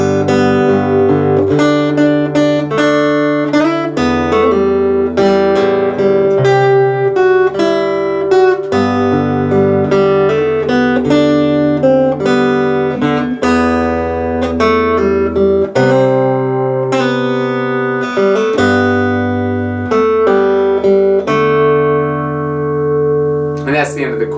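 Fingerstyle acoustic guitar plays the chorus of a song, a steady run of plucked bass notes and ringing melody lines with strummed chords, loud and close throughout with no talking.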